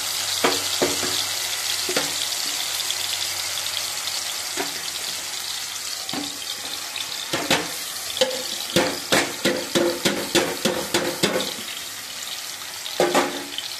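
A masala mix of spices and fresh chili powder fries in hot oil for a mutton curry, giving a bright steady sizzle with repeated sharp clatters from stirring, growing busier toward the end.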